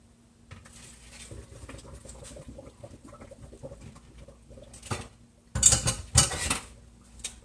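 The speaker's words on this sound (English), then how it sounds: "And I'm just going to strain these noodles." Cooked noodles tipped from a pot into a colander for straining, with light clinks and taps of metal cookware followed by louder splashing, rushing bursts of water near the end, and no talking.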